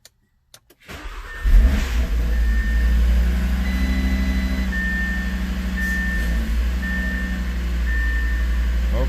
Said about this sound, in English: Let's start the car and see what happens.